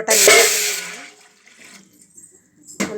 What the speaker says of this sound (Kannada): ಲೋಟ ನೀರು ಹಾಕ್ಕೊಂಡಿದ್ದೀನಿ